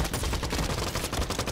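Rapid gunfire from a Roblox first-person shooter: a dense, continuous burst of close, loud shots rattling without pause.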